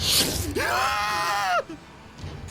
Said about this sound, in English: a scream pierced the air